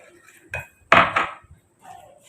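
A spoon stirs a thick banana barfi mixture with semolina in a pan, producing a few separate scraping clinks of metal against the pan, the loudest in the middle, with near-silence between them.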